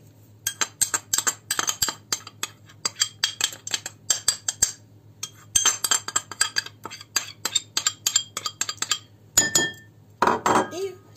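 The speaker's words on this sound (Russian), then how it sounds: "для начала мы смешаем сахар, мука, 10 грамм крахмала" A spoon or whisk scrapes and clinks against a bowl while sugar, flour and starch are mixed for a Kyiv cake, in quick rhythmic bursts of close metallic taps with short pauses, and no voice.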